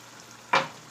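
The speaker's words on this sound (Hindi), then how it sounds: "आलूओं को 3 से 4 मिनट भून लिया और इसमें थोड़ा सा पानी डालेंगे" Water splashes into a pan of potatoes frying in oil while cooking taro root and potatoes, giving one sudden loud hiss that flares up and slowly fades.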